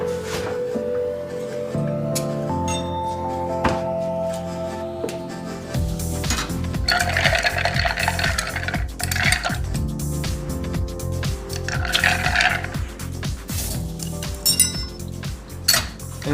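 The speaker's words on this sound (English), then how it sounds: "So I stir it all up. Give it a good stir." A whisky cocktail stirred over ice, with a bar spoon clinking and rattling cubes against the glass in a steady, close, continuous swirl, the clatter growing busier partway through.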